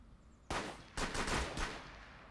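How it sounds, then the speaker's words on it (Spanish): Rapid bursts of gunfire in the tactical shooter Rainbow Six, several close, loud volleys in quick succession with short gaps, heard alone without talk. "Ya he oído más de 5 disparos"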